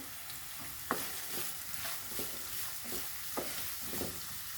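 Curry leaves fry in oil for poha, a steady soft sizzle with occasional stirring scrapes at irregular intervals, close but fairly quiet.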